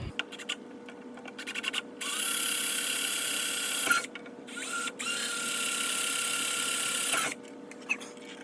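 A power drill bores a pilot hole through the transom of a 1984 Chris-Craft Catalina 381 while transom lights are fitted. Two sustained, close whirring runs of steady pitch are separated by short pauses.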